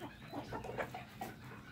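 Hens cluck faintly in a backyard poultry pen: a few soft, scattered clucks over low background noise, with no talking.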